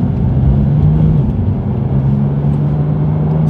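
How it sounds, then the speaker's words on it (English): Engine of a Porsche GT3 with a PDK gearbox, a loud, steady low drone heard from inside the car as it cruises, with a slight pitch shift partway through. "the power and feel that engine and that crescendo in the back"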